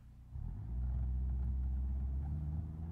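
A Hirochi Sunburst car idles in BeamNG.drive, its low, steady engine rumble swelling slightly in the first half-second and then holding loud and close, with no one talking.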